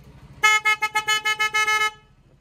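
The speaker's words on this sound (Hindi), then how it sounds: "सिंगल हॉर्न इतना तेज है।" A scooter's single horn blares in a quick run of about nine short, loud toots packed into under two seconds, with no one talking.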